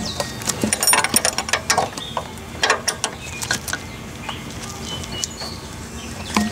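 A ratchet wrench clicks in quick uneven bursts while tightening a brake line fitting on a Corvair, close and crisp, with pauses between runs of clicks and no talking.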